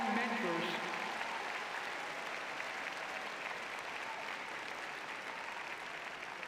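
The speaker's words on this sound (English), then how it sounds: "Let's applaud the parents, families, friends, faculty, staff, and mentors" Applause from the audience at a college commencement ceremony in an indoor arena, a steady wash of distant crowd clapping that holds throughout with no clear voices, and a brief voice at the very start.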